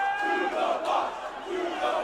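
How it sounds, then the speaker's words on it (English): Hockey crowd at a high school championship final between Kinnelon and Vernon, roaring and jeering together after a tripping penalty call, a sustained loud surge of many voices that swells and dips across the moment. "Kinnelon crowd making it pretty obvious what just happened there"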